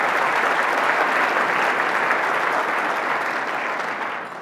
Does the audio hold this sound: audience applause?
yes